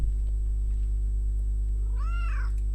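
A single cat meows once, clear and fairly close, over a steady low hum from an indoor room; no talking accompanies it.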